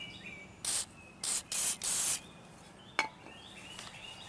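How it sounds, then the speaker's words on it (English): WD-40 hisses from an aerosol can onto a car hood with peeling clear coat, in four short close bursts, each louder and longer than the last, followed by a sharp tap and birds chirping faintly outdoors. "So here I got WD-40. I'm going to spray on the hood."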